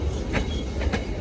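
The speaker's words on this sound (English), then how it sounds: "We just had 2 goods trains go through." A goods train passes on the railway at Springfield in New Zealand, wheels clacking rhythmically over rail joints close by, a steady rumbling roll with two sharp clicks near the end.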